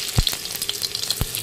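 Panch phoron spices crackling in hot oil in a home kitchen, a brief close sizzle with a couple of sharp pops and spits over a steady hiss.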